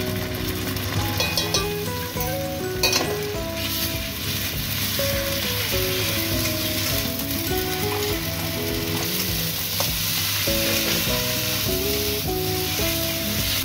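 Ginger, garlic and onion paste sizzles loudly in hot oil for a crab curry, a continuous close frying hiss with occasional stirring scrapes and a few sharper spatters near the start.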